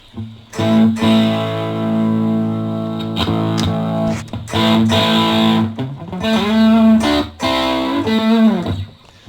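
A heavily distorted electric guitar through a small travel amp plays sustained chords and short riffs, loud and buzzy, with brief gaps between phrases.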